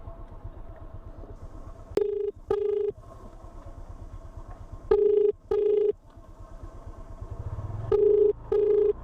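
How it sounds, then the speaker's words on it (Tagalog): Phone ringback tone on an outgoing call, sounding as three pairs of short double beeps at even intervals over a low rumbling background, close and clear. "Tawagan natin si Ma'am."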